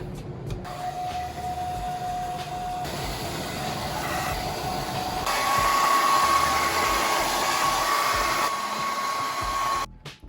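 A heat blower runs continuously at close range, warming battery adhesive inside a MacBook Pro 13-inch A1502, its steady airflow whine shifting pitch slightly a couple of times before cutting off near the end.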